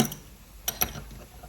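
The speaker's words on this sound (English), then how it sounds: "that's how you tap the thread onto this" A hand tap cuts a thread into a part held in a vise, producing a few faint metallic ticks and clicks as the tool turns and backs off, close by with no talking.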